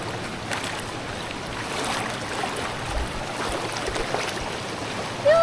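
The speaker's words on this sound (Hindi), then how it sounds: "आराम से जाए, पानी का फ्लो है थोड़ा।" Steady rushing flow of a monsoon stream on the Dudhsagar waterfall trek, a broad continuous wash of water close by, holding level throughout with no voices.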